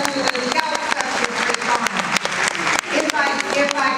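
An audience at The Mane Event 2024 applauds with a brisk, uneven patter of many hands clapping, moderately loud and lasting a few seconds, while voices carry on over it.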